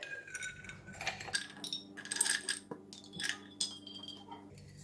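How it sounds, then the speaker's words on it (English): A couple of ice cubes drop into a glass of butterfly pea flower drink sweetened with syrup, giving several faint, bright clinks and a soft rattle close by. "Just a couple of ice cubes."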